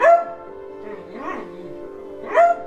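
A dog lets out short whining yips with rising and falling pitch, two brief louder cries separated by a softer drawn-out whimper, close to the microphone.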